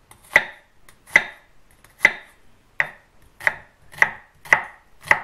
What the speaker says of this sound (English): I'm gonna chop up some more stuff separately without you.